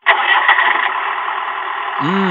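A Vauxhall Nova car engine is turned over, giving a continuous cranking drone for about two seconds that ends in a brief change of tone. It is loud and close, with no voices.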